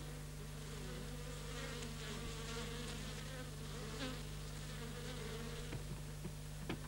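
A dense swarm of bees buzzes steadily around a large apiary of about a hundred beehives, a continuous close drone with overlapping wingbeats and no speech.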